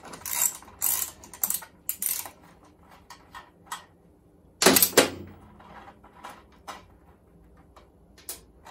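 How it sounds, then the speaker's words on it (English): A ratchet loosens a nut on a 1973 Honda PC50 moped in short bursts of rapid clicking separated by pauses, close and crisp, with one longer, louder run midway. "And loosen it off loosen nut off first"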